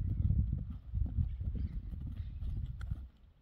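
A mixed-breed criollo horse's hooves clip-clop in a steady, lively walking rhythm, close by with dull thuds over faint background noise.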